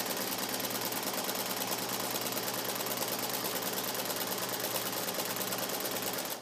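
Sewing machine running steadily while stitching layers of fabric together for underlining, a continuous even mechanical whir with no pauses, close and moderately quiet.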